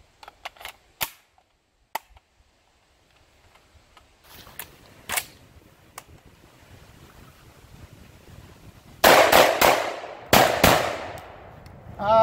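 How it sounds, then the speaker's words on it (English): Shotgun firing 7.5 low-brass shells: a handful of spaced single shots early, then rapid close bursts of loud booming reports toward the end, each with a short ringing tail. "This is very quite manageable to fire. Rapid fire."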